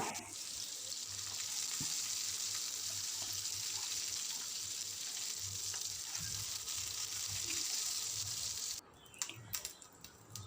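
Masala-coated fish pieces fry in oil in a pan with a steady, close sizzle and crackle, then a brief clatter near the end as the hiss drops away.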